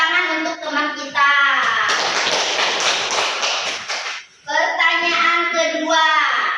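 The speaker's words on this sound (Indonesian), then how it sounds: "Beri tepuk tangan untuk teman kita." A group of children clapping hands together in a classroom, a dense burst of applause lasting about two seconds between stretches of someone talking.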